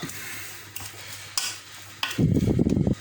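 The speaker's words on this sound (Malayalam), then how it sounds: "എന്നിട്ട് ഇതെല്ലാം കൂടെ നമുക്ക് നന്നായിട്ട് തന്നെ ഒന്ന് മിക്സ് ചെയ്തെടുക്കാം." Paneer, mushroom and salad vegetables being tossed together with a drizzle of olive oil, a few soft scrapes and clicks early on, then a louder burst of stirring and clattering against the bowl toward the end.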